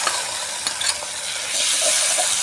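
Fennel seeds and two bay leaves frying lightly in hot oil, a close, constant sizzle with a few brief clinks of stirring early on, growing slightly louder toward the end, with no voices.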